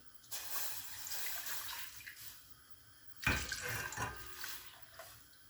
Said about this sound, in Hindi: एक पैन में मैं ये 2 कप दूध डालूंगी